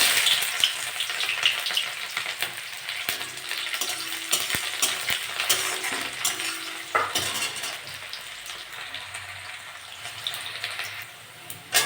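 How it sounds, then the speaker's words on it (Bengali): Onions frying and being stirred in a pan for a saag and potato dish, a steady close sizzle with scraping utensil strokes and clinks throughout, no talking. "পেঁয়াজটা ভাজা ভাজা হয়ে গেছে"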